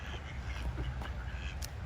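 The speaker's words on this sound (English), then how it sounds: "Here come more ducks. Oh my God, here's a real big duck." A duck quacks right beside the listener among a group of ducks gathered near the water, the calls close and fairly loud over a low, steady outdoor rumble.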